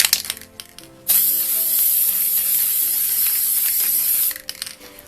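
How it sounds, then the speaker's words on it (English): A steady, loud hiss of an aerosol spray can spraying for about three seconds, starting abruptly and cutting off, with faint handling noises before and after. "you just clear the nozzle out by turning it upside down and spraying it"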